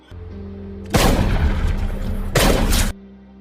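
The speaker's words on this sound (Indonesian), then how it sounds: "mendapat tembakan dari atap gedung" Loud, heavy gunfire from a building rooftop in the film District 1, in two sustained booming bursts, the second shorter, with a quieter hum before and after.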